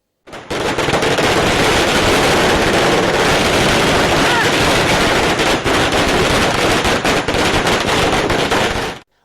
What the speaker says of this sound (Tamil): பட்டாசுகள் வெடித்தும் கொண்டாடினர்